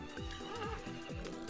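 A horse neighs in the farming video game Story of Seasons: Friends of Mineral Town. It's a close, clear whinny with a falling, wavering pitch, repeated in several short bursts and heard alone.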